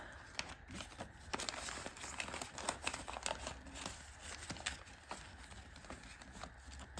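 Paper cash and a paper envelope are handled close by in quiet rustles and crinkles, with quick sharp flicks and taps as bills are sorted, faint and irregular throughout.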